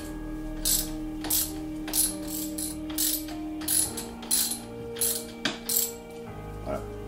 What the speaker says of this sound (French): La petite clé de 19 et on vient desserrer